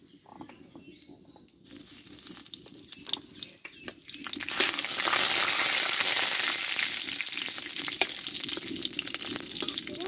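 Whole cardamom, dried chili, bay leaves and cumin hit hot oil in a pan. A quiet start gives way to a sizzle that surges and then holds steady and fairly loud.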